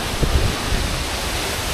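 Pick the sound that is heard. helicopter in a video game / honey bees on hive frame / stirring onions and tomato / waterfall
waterfall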